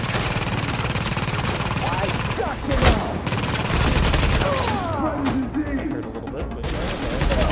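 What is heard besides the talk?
gunfire from a gun in the video game The Division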